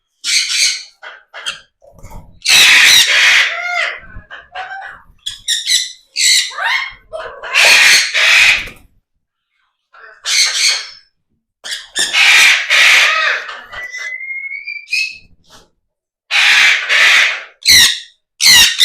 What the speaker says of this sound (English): Time to feed the cockatoo.